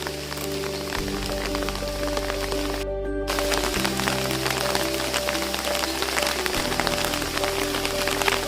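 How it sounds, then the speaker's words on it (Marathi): Monsoon rain falls steadily over a rural Konkan homestead at the start of the rainy season. It makes a dense, even hiss of drops on surfaces that lasts the whole stretch, with a faint background hum. "मस्त पाऊस आलाय।"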